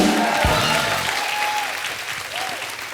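A studio audience on a comedy show bursts into loud, sustained applause, dense clapping that starts at full strength and slowly tapers over a few seconds, with faint overlapping voices beneath.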